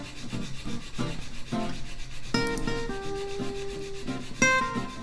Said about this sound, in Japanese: 最小限の当て木で削っていきます